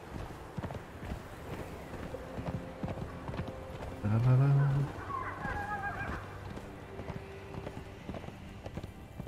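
Horse hooves clip-clop in the Conan Exiles video game, a steady patter beneath a loud, brief whinny-like call near the middle, with game ambience and soft tones around it.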